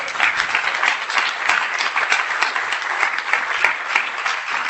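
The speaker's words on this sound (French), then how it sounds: "On peut l'applaudir aussi bien fort." Steady, dense applause from an audience at a French cycling-advocacy congress, many hands clapping continuously at an even, fairly loud level with no voices over it.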